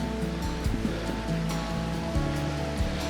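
A river rushes steadily beside a bush walking path near a waterfall on the way to a swimming hole in Belmont, Wellington, a constant broadband roar of flowing water at close range with no talk.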